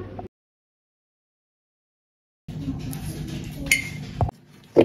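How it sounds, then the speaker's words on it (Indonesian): A spoon stirs sugar and jelly powder together in a bowl, giving light clinks and scraping after a pause, close and moderate, with brief sharper taps near the end. "Selanjutnya aduk hingga tercampur merata supaya bubuk jelinya tidak menggumpal"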